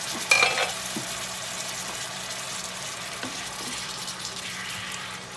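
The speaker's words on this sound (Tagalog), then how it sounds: "Lagyan lang natin ng konting water para medyo lumambot yung mga gulay natin." A splash of water hits stir-fried vegetables in a hot pan for Indomie mie goreng, giving a brief hissing burst followed by a steady, close sizzle.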